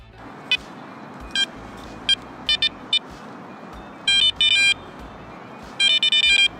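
A metal detector sounds short, sharp electronic beeps while coin hunting in an urban spot near parked cars. The bursts come irregularly, some singly and some in quick clusters, over a steady background hum.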